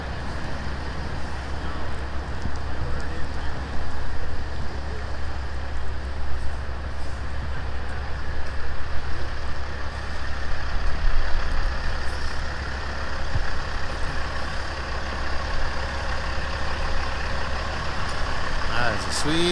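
Kenworth log truck rolling in a convoy with other local trucks, a steady low engine drone and road rumble running throughout at close range, with people talking over it.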